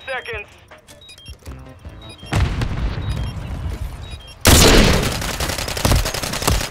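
Call of Duty gunfire crackles in rapid bursts, growing louder and denser midway, with voices talking over the shooting.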